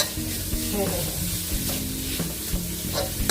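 Holy basil kaphrao stir-fry in a wok, with a constant loud sizzle and frying crackle under repeated scraping strokes of a spatula against the pan.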